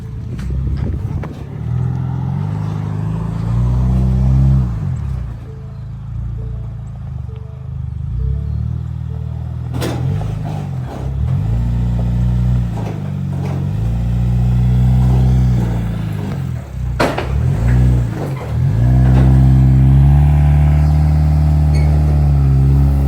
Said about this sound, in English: Spinning tires. We don't have four-wheel drive.